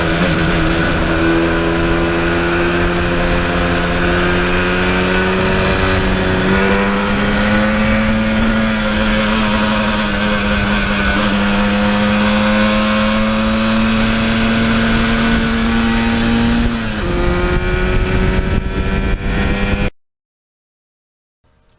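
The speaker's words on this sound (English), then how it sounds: "cruising around and burning up that two-stroke oil and going through the gears" A 1977 Yamaha RD400 two-stroke motorcycle on a sunny-day ride pulls through its gears, a loud buzzing engine note holding and climbing with a gear change around the middle, cutting off abruptly near the end.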